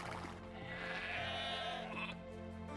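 A sheep in Age of Empires II gives one long, wavering bleat. It sounds close and clear over a constant low game-music bed.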